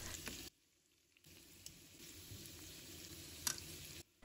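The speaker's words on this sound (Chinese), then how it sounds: "开中小火把它煎至金黄色" Slices of white radish fry in oil in a pan over medium-low heat, a soft steady sizzle that briefly drops away and then resumes, with a faint clink near the end.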